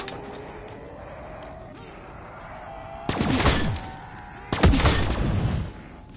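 Gunfire in a PS4 video game: two loud, crackling bursts about a second and a half apart, each ringing out and decaying over a steady bed of game music and background tones.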